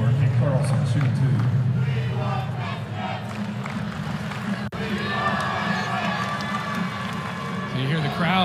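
An arena crowd roars and cheers steadily throughout a women's college basketball game between William & Mary and Virginia Tech, a dense, loud wall of voices with a brief dip midway and no commentary over it.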